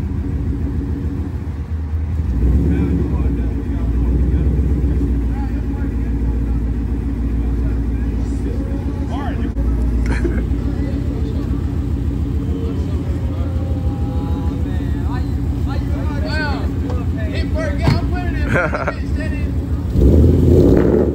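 A diesel engine rumbles low and steadily throughout, with people talking over it and a brief louder swell near the end.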